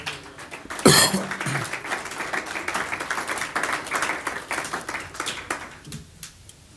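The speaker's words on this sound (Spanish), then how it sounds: "Denle un aplauso al Señor." Congregation in a church breaking into applause after a sermon line, a sudden burst of clapping that swells and continues steadily for several seconds before tapering off.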